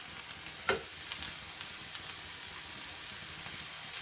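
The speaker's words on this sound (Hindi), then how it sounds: "शिमला मिर्च को भी हमने अच्छे से फ्राई कर लिया है" Chopped capsicum and onion frying in a pan give a soft, steady sizzle, broken by one sharp clink of a spoon against the pan and faint stirring scrapes throughout.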